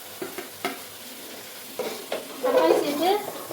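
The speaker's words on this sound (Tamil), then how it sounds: "இப்போ நான் தக்காளி சேர்த்துக்கிறேன்." Tomatoes added to onions and biryani masala sautéing in a pan for country chicken biryani, giving a soft sizzle with spoon stirring and scraping taps, growing busier toward the end, close by.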